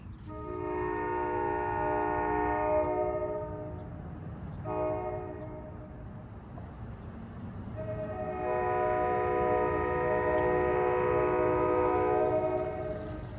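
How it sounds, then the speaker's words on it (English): A K5LA horn on an NJ Transit ALP45DP locomotive blows a loud, chord-like blast, breaks briefly, sounds a short note, then gives a long final blast, all over a low rumble of the passing train. "That melodious horn you hear at 12:37 is from train 1113 from Hoboken to Suffern."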